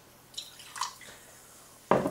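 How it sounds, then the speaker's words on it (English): Semi-sweet Spanish cider from Carrefour is poured into a glass: a couple of short trickling splashes, then a louder fizzing gush of liquid near the end, close and without talk. "Let's get another pour out"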